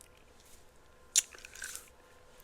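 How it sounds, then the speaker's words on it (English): Someone chews gummy bears close to the mic, with a sharp wet bite near the middle and soft squishy chewing noises after it. The room is otherwise quiet. "As I'm chewing on gummy bears."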